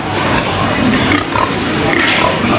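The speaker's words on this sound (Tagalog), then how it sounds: "Daming baboy guys." Pigs on a farm with many sows grunt and oink continuously in a dense, noisy chorus, with faint human voices mixed in.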